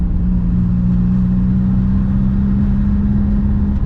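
A Toyota Mk3 MR2 with a 1.9 TDI turbo diesel engine drones steadily at a low pitch with a constant hum under acceleration, close and fairly loud, pulling smoothly with no voices.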